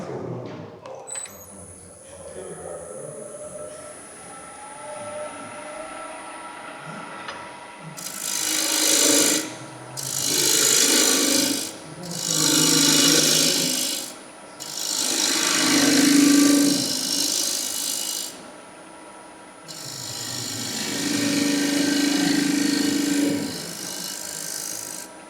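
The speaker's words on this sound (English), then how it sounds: "So using the bowl gouge, I'll waste some material away here" Green wood turned on a lathe with a bowl gouge: five separate, loud scraping, rasping cuts of several seconds each, broken by short pauses over a quiet motor hum, after a calm opening stretch.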